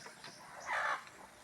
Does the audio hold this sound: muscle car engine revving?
no